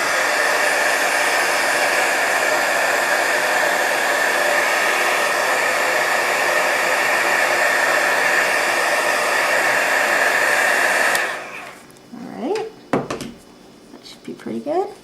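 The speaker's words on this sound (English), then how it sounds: "we're going to go ahead and dry it with the heat gun" Heat gun drying acrylic paint: a loud, steady blowing whoosh that holds for about eleven seconds, then cuts off, followed by light clatter and handling sounds.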